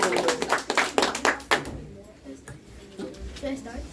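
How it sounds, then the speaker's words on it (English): A brief burst of clapping from a small group at a recitation and speech competition, fading after about a second and a half into quiet room noise. "Let us welcome him with a round applause."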